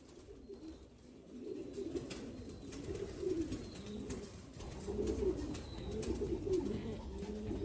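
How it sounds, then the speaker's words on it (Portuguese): Pigeons coo in low, rolling, throaty bursts that overlap and repeat steadily, fairly close, with a faint background hiss. "Esse pombo aqui é neto do alemão do Maurício"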